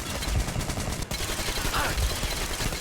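Continuous gunfire from the video game Metro Exodus, a dense stream of close, loud shots over a noisy game background throughout.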